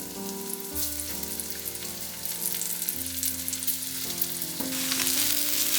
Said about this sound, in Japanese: 少量の油を入れたフライパンで揚げ焼きにしていきます。